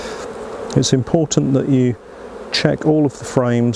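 Honeybees at an open hive during a disease inspection give a constant buzzing hum under a voice, which talks through most of the clip.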